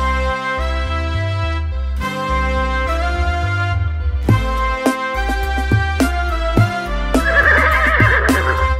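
A horse neigh sound effect whinnies near the end of a bouncy Hindi children's nursery rhyme tune, rising over loud, steady music with plucked and struck notes; no voices are heard.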